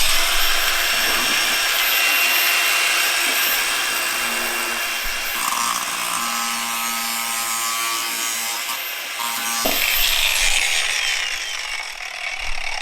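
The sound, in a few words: Milwaukee power tool grinding a box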